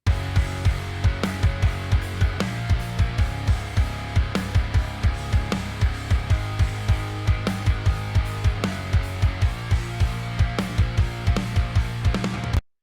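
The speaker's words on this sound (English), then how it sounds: "That's a big fat kick with a punchy snare." A big, fat modern emo kick drum and punchy snare play a steady, driving beat in a full band mix, with regular strong low thumps through the whole passage.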